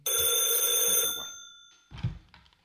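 An old-style telephone bell rings loudly and steadily for about a second, then fades out, followed by a short burst of other sound; no speech is heard.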